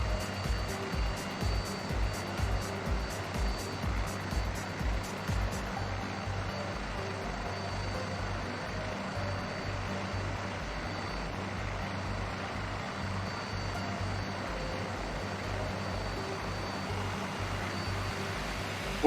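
Twin-engine helicopter in a flight simulator, a steady loud engine and rotor drone that holds throughout, with a rhythmic blade thump that is strongest early on.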